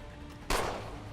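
A single loud gunshot in the video game Assassin's Creed 3 bursts out after a brief quiet stretch, its sharp crack trailing off into a lingering echo.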